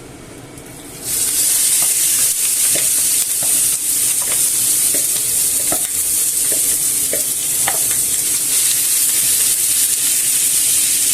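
Pork lands in a very hot pan and erupts into loud, continuous stir-fry sizzling and hissing, with occasional knocks of a utensil moving the meat, and no voices.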